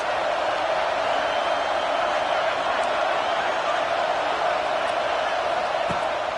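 A college football video game stadium crowd gives off a dense, steady roar of massed noise, loud and unbroken, with faint speech beneath it.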